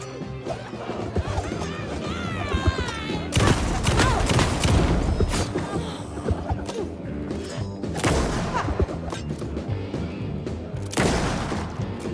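Shotgun blasts and crashing impacts in the horror video game Alan Wake 2, Night Springs DLC: a loud, dense run of heavy booms and smashing hits, with a brief quieter gap before more bursts near the end.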